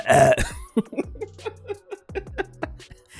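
One person gives a series of short, sharp coughs and throat sounds close to the microphone, spaced irregularly, with brief voiced noises between them.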